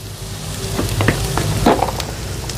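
Vegetables with capsicum sizzling in a pan as spices go in, a steady close frying hiss with a few brief stirring clinks and scrapes, no voices.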